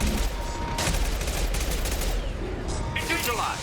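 Rapid bursts of energy weapon fire in Mass Effect 2, dense and continuous over layered game combat noise, with a voice speaking over the gunfire.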